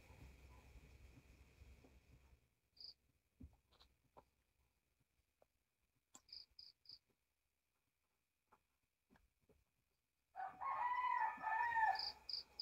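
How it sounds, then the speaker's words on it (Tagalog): A rooster crows loudly near the end of a long quiet stretch, after a few faint clucks and small scattered noises from the chickens. "Gising na yung mga manok."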